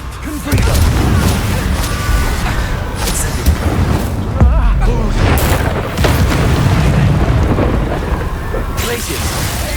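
Confringo fire spells explode in the Hogwarts Legacy video game. Loud, booming blasts crack and roll over a dense rumbling wash, with a voice heard briefly amid the repeated detonations.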